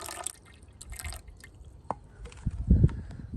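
Water drips and trickles into the cooling system of a PT Cruiser, with scattered splashes building to a heavier gurgling pour near the end, close up.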